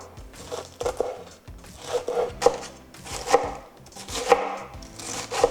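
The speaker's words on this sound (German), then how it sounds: "Den Spitzkohl werde ich in feine Streifen schneiden." Pointed cabbage cut into fine strips with a knife on a board, giving about six rhythmic chopping strokes up close with soft crunches between them and no speech.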